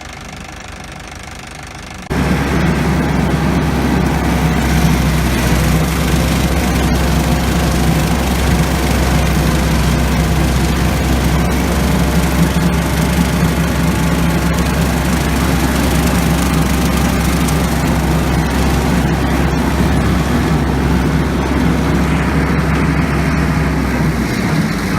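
A steady, loud mower engine runs for about 23 seconds while cutting cover crops in a field. It starts abruptly after a short quiet lead-in, then holds a constant low, knocking drone without any talk.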